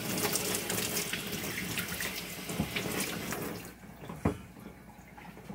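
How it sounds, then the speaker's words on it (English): Citric acid and water cleaning solution, used to strip rust from pinball machine legs, pours down a sink drain as a steady close splashing rush, thinning out near the end with a few separate splashes. "you can just dump it right down the drain."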